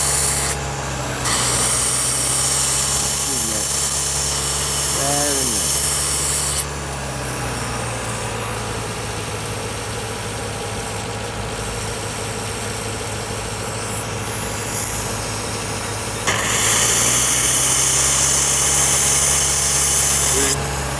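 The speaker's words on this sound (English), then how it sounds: "Let the engine continue to rev." A 2004 Toyota RAV4 engine runs steadily while injector cleaner is fed through the vacuum line, a loud continuous hum with hissy broadband noise that swells louder at the start and end, with a voice speaking briefly over it.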